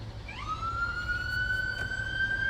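An emergency vehicle siren sweeps up and holds a steady wail, moderately distant over low traffic rumble, with no talking.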